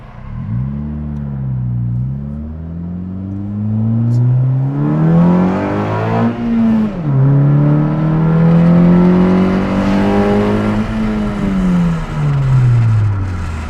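Honda Fit with a swapped K24 engine accelerating hard, engine note climbing through the revs, dipping at gear changes, then pulling up again, loud from inside the car.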